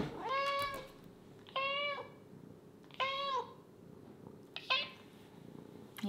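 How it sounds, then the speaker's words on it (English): A cat meows four times in separate drawn-out calls spaced about a second and a half apart, fairly close and clear over a quiet room background with no talking. "every time she sits and meows and meows and meows until I pick her up"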